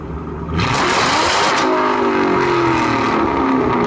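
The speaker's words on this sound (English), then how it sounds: "Here's what it sounds like with an off-road X-pipe." Close and loud, a 2005-2009 Ford Mustang with an off-road X-pipe and axle-back exhaust idles briefly, then revs hard in a rising rasp that holds and fades back down, with no speech.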